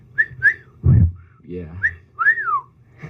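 A person whistles a string of short rising and falling notes, with a brief spoken word partway through, close and clear.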